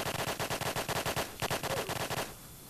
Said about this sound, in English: Why is he shooting?